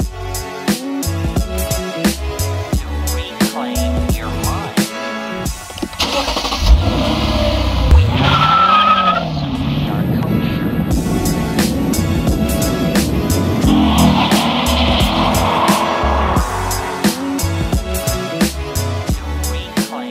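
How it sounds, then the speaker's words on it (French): A Lexus RC-F with a 5-litre naturally aspirated V8 starts up and revs, the engine running loud and steady throughout, mixed with a rhythmic beat, and no voices. "une voiture qui met en œuvre un gros V8 atmosphérique de 5 litres"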